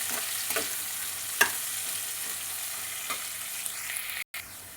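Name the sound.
frying onion until red in a pan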